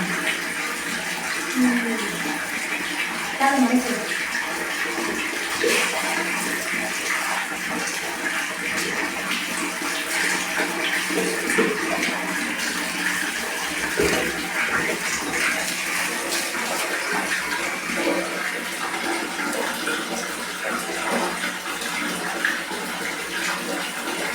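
Tap water running steadily into a child's bath at home, a continuous splashing gush heard close up throughout, with people talking over it.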